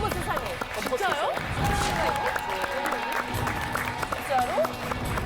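An audience applauds to welcome Pattie Boyd onto a lecture stage, steady dense clapping mixed with scattered voices and exclamations, close and continuous throughout.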